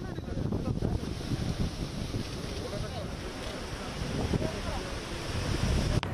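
Rough, stormy sea surging against the Kerala coast: a constant broad roar of surf, with wind buffeting the microphone and a voice talking over it.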